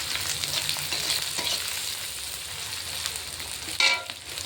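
Chopped onion frying in a pan while being stirred, a steady close sizzle with soft scraping and a sharper clink of the utensil near the end.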